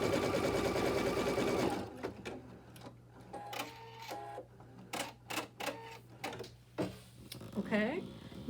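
An embroidery machine stitches a placement outline for a gnome table topper, starting with a fast steady mechanical whir, then moving to irregular bursts of clicking and thumping needle strokes, close and clear.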